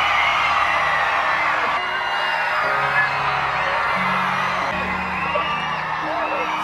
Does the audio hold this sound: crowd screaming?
yes